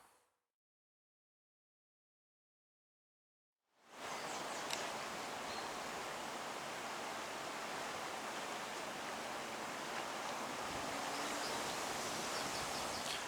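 A river flows steadily in Northern Ireland, a broad continuous rush of water that starts after a few seconds of near silence and holds even and moderately loud, with no voices.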